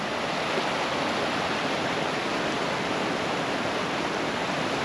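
Loud, steady roar of a flooded river's rushing water, a dense unbroken torrent that fills the whole clip with no voices.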